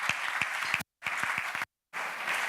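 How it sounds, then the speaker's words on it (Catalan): Applause from an audience in an auditorium at a magazine presentation event, moderately faint, steady clapping in short segments broken by brief silent gaps. "Donem un fort aplaudiment a l'alcalde"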